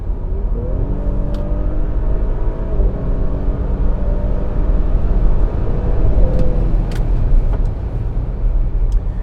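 A 2022 Audi SQ5 Prestige accelerating hard from a standstill, its engine note rising steadily in pitch through the gears, heard loud and continuous from inside the cabin with a faint background whir.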